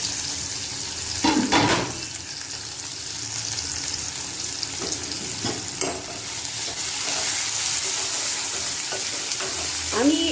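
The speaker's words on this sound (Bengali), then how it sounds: "পেঁয়াজটা ভাজতে থাকে আমি ঢেকে ভাজি, তাহলে তাড়াতাড়ি হয়ে যায়।" Onions fry in a covered pan for a Bengali aloo posto, giving a steady, close sizzle with a few scraping stirs and clinks near the start and end, and no voices.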